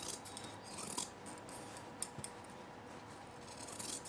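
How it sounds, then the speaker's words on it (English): Scissors snip through absorbent fabric cut for a cloth pad, soft crisp cuts and faint rustling close by at a low level, with a few small clicks and no voices. "Then I'm just going to cut my absorbent fabric down to the same size"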